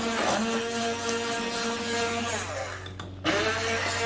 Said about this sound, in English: So I'm going to use an immersion blender.